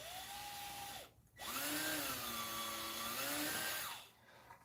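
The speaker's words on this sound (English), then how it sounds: "these big screws too, they just do not want to screw in" A power drill drives big screws into a wooden board with a whining motor that runs, cuts out briefly, then spins up again with a rising and falling pitch, close and steady.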